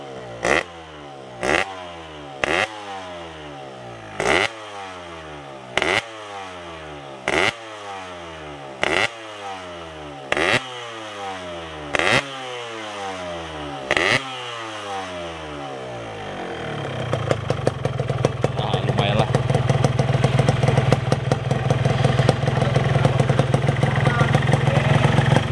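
Restored Yamaha RX-King two-stroke motorcycle engine, close and loud, revved in a regular series of sharp blips with popping decay, then held at a sustained high-rpm crackling roar.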